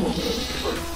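A goat bleats loudly and close in GTA San Andreas with a wildlife mod, one wavering, nasal cry lasting about a second with no talk over it.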